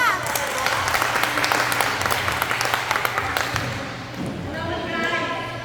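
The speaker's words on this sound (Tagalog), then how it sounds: "Isang palakpak para kay Mika!" Crowd applause at a basketball event, a dense wash of clapping and cheering that holds steady for several seconds, then thins as voices chatter over it.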